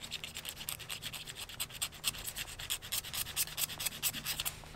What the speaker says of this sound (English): find an edge on there and scrape the plastic